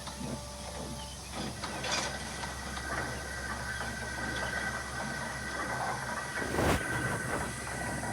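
Railway coaches being shunted in a Thomas and Friends scene give off a steady rumbling rail noise with clanking and ratcheting coupling sounds, fairly continuous and moderately loud with no speech.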